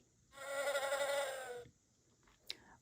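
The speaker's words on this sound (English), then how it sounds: "Dragonfly." Dragonfly buzzing in one sustained, loud whirring drone of about a second and a half, close by, then fading out to quiet with a brief faint flutter.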